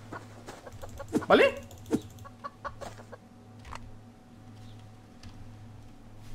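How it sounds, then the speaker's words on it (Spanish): A hen in the survival game Subsistence gives a burst of quick clucks and squawks at moderate distance over a steady low hum, with a brief spoken word and scattered game noises around it. "Mira, aquí hay gallinas de estas. Madre mía, cómo corre la gallina"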